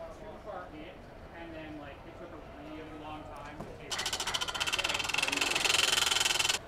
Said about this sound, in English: It sounds like the fan is rattling in there